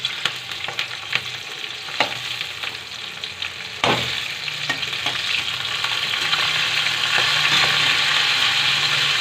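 Green chillies fry in a pan for peanut chutney, a loud continuous sizzle with frequent scraping and stirring clatter, growing denser toward the end.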